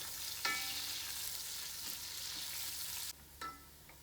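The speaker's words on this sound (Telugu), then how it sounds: "ఇలా ఆనియన్స్ దోరగా వేగాక" Onions frying in a pan with whole spices for mutton pulao, a steady close hissing sizzle with a couple of brief stirring scrapes and a sudden drop in loudness near the end.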